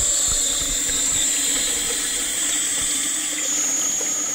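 Water from the shower taps runs in a steady, hissing stream, loud and continuous with no pauses and no voices.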